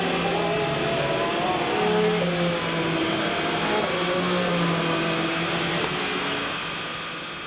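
Toyota hybrid LMP1 race cars at full throttle through Copse Corner at Silverstone, a loud sustained engine drone with shifting harmonic pitch that holds steady throughout, then thins slightly at the very end.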